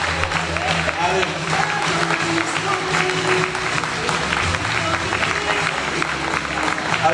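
Applause from an audience at a children's stage appearance during an evening queen-of-the-festival election gala, a dense continuous clapping wash with crowd murmur and background music throughout.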